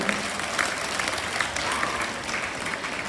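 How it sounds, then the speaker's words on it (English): An audience of schoolchildren at a youth parliament event in St. John's, Tenali breaks into continuous applause and hand clapping, a dense, even wash of many hands that holds steady throughout. "So give a big hand clap for all these things"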